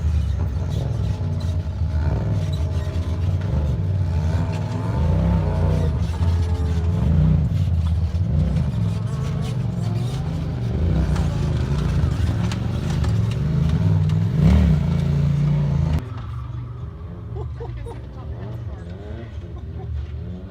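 Off-road UTV race cars at the King of the Hammers 2019 event rev and drive with a steady, loud mid-range engine drone, rising and falling with throttle, under continuous commentary before cutting to a quieter passage.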